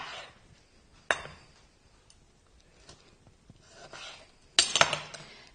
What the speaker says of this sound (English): cut the tomato into 4